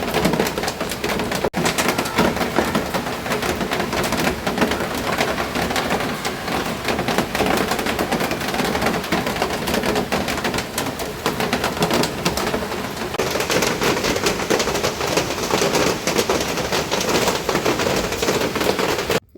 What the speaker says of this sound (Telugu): అసలు ఫుల్ వర్షం పడుతుందండి